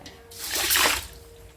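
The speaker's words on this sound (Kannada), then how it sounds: "ಫಸ್ಟ್ ಅಕ್ಕಿ ತೊಳೆ ಅಂತಡಿ ಅಕ್ಕಿ ತೊಳಿತೀಯ" Rice being washed in water at home for set dosa, a short swish and splash of water rising and fading within about a second, close and fairly soft.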